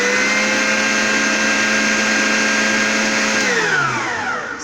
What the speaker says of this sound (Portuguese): E agora vou adicionar uma colher de sopa de fermento em pó. E vou bater só um pouquinho